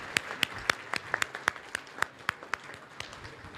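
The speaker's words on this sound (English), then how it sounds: "One more round of applause for everybody." An audience at a university innovation challenge event gives a short round of applause, with loud, distinct claps ringing out in a loose, irregular rhythm and a busier patch of clapping midway, heard up close without any voices over it.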